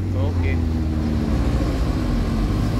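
A loud, steady low engine rumble from a Sempati Star bus's large exhaust, droning continuously close by with a faint voice underneath.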